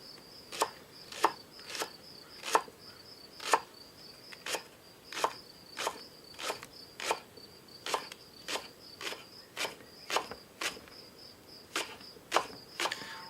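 A knife slices red onions thinly on a board for a stale bread salad, giving a steady run of about twenty crisp, evenly spaced chopping taps, close and moderately loud, with no talking.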